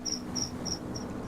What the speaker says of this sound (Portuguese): Grilo massa.